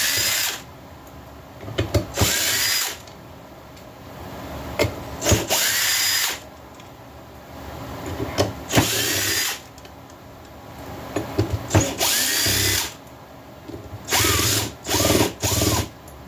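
Power drill spinning bolts out of a Stihl MS460 clone chainsaw, loud repeated bursts of whirring and ratcheting separated by pauses, with clicks and handling noise between runs.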